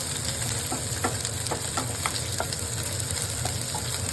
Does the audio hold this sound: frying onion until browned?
yes